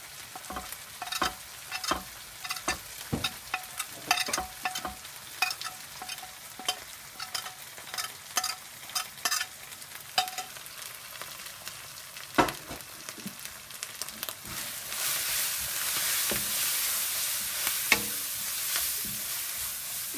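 Spices get stirred into hot oil for a Bangladeshi koi fish curry, a spoon scraping and clattering in steady rhythmic strokes over a continuous sizzle that swells louder and hissier near the end.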